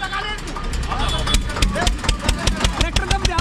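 Tractor engines of an Eicher and a John Deere labour through a tug of war, a loud pulsing diesel chug close by under excited shouting.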